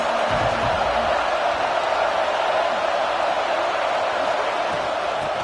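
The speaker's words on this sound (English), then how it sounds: "This crowd ready to make its presence known." A football stadium crowd roars as a dense, steady wash of noise that holds level throughout with no breaks, fairly loud and unbroken by any clear single voice.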